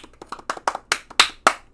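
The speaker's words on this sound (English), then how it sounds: "Golf clap for Montez." A slow, deliberate golf clap, about nine separate hand claps in a loose rhythm that grow a little sharper and louder, close to the microphone.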